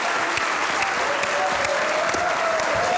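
A dense, sustained round of audience applause greets a comedy stage performer, loud and even throughout with no voices.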